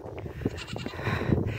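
Goats bleating restlessly in a farm pen at sunset, several calls overlapping at moderate distance over a steady outdoor background.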